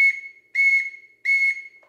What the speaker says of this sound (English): I achieve that whistle,